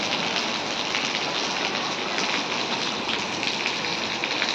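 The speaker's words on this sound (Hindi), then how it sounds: "बहुत तेज़ बारिश होने लगी।" Heavy rain pours steadily onto the ground and surfaces outdoors, a dense, even hiss of drops at constant loudness with no voices.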